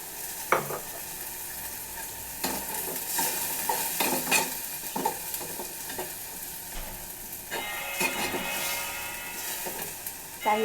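Fish and eggplant fry in a pan on a home stove, a soft steady sizzle broken by sharp scraping and clinking of a utensil stirring against the pan in irregular bursts.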